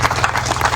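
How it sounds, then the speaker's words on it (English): Audience applause at a gathering honoring RDCs, a dense, steady patter of many hands clapping at moderate volume with no voices. "You clap for this man."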